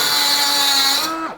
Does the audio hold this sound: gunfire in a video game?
no